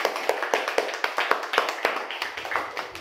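A group of students clapping in a classroom, an irregular patter of hand claps that runs steadily for a few seconds, close and fairly loud, with no talk over it.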